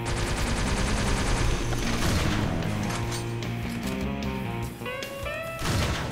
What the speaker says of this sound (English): So the homing missiles go behind here.